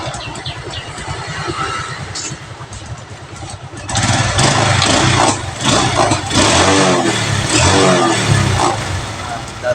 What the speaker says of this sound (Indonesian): Dan motor pun sudah nyala.